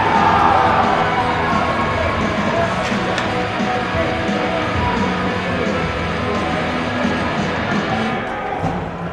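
Hockey fans in a cheering section at an SMAAAHL playoff game roar after a penalty kill, a dense crowd din that stays loud throughout, with arena thumps and scattered shouts mixed in.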